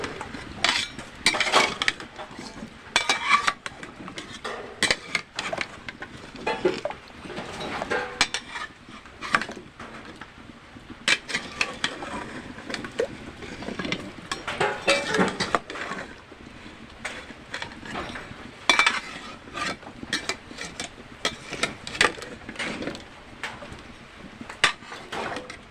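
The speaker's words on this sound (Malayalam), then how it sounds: "ചീനി ഒന്ന് ഇളക്കിയിടാം കേട്ടോ." A spoon scrapes and clatters against a pot while tapioca (cheeni) is stirred, giving repeated irregular metallic knocks and scrapes of moderate loudness that go on throughout.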